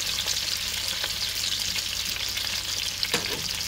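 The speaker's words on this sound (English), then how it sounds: "This is probably going to be the last time we have to turn the sausages." Sausages fry in a pan with potatoes and onions, giving a constant, close, even sizzle with a few faint utensil knocks and no talking.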